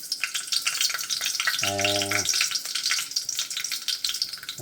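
Urad dal and mustard seeds crackle and sputter in hot coconut oil in a steady, busy sizzle, with a short tonal beep partway through.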